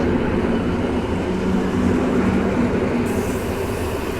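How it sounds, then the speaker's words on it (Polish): An EN71 electric multiple unit train pulls out of a station, sending up a loud, steady rumble of wheels and traction noise close by, with no talking. "Już rusza skład do Żyrardowa"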